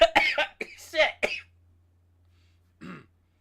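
After a short burst of speech, a man gives one brief cough close to the microphone, following a quiet pause.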